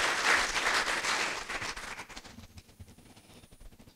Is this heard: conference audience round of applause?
yes